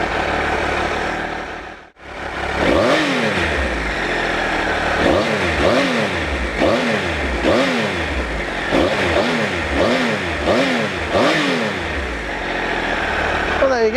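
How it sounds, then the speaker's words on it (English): An adventure bike's three-cylinder engine on a standard exhaust revs repeatedly from idle, giving a raspy, close-up series of about a dozen sharp blips in quick rhythm, with someone speaking briefly. "I love that triple sound. It's really raspy, really nice."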